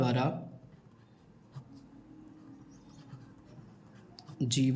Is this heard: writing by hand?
yes